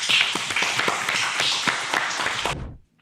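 A small crowd of audience members at a startup founder pitch event claps for about two and a half seconds, a dense patter of hands that stops abruptly into silence.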